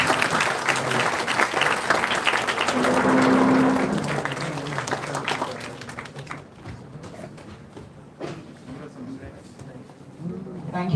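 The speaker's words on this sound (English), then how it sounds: "I request everyone to give a big round of applause for Team Pandas" Audience at an alumni entrepreneurs summit clapping for a team, loud applause for the first few seconds that fades into scattered claps, with voices speaking over it.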